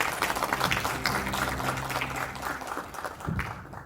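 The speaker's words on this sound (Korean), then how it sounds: "큰 박수로 맞이해 주십시오." An audience applauds to welcome a dental school professor to the stage at a corporate meeting, with steady clapping over a low hum of music that fades toward the end.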